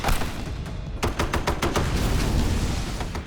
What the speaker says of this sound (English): This is the M2 heavy machine gun, also known as the Deuce.